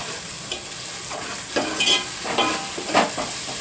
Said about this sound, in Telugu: ఇప్పుడు వేసుకునే అల్లం వెల్లుల్లిపై పేస్ట్ కూడా పచ్చివాసన పోయేలాగా వేయించుకోవాలి